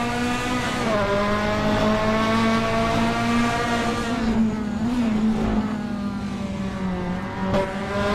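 Toyota GR86 race cars accelerating at a race start at Donington Park: a pack of engines droning loud and steady, pitches rising and shifting together as the field pulls away, with no voices.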